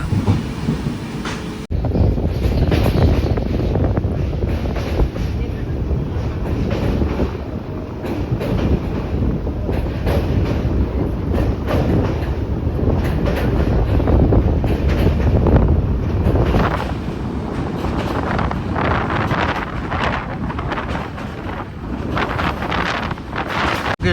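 The Karwar Express from Mangaluru to Yeshwantpur runs through the Western Ghats with a loud, continuous rumble of coaches and rails under heavy wind buffeting, steady for the whole stretch with no talk.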